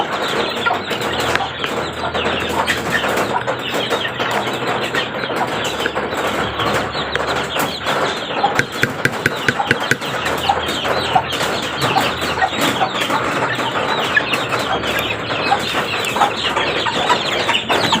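A flock of hens clucks constantly alongside small chicks at feeding time on a rainy day, a dense, busy chorus of close clucks and peeps with a steady rain-like hiss underneath and no talking.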